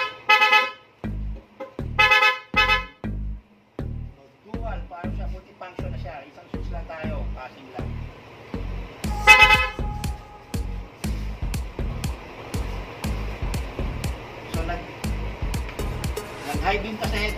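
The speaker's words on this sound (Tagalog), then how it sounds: "Sasabay naman yung busina." A Yamaha NMAX scooter horn with a modified passing switch honks in a run of short, loud repeated beeps, with a longer blast midway and steady near-field rattle behind, while someone talks over it.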